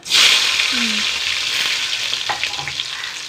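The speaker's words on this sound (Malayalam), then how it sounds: "ഇതിലേക്ക് കുറച്ച് ചെറിയ ഉള്ളി ഇട്ടാ" Small onions dropped into hot oil with mustard seeds, a loud bright sizzle that flares up at once and then settles into a steady crackling fry, with a faint stir.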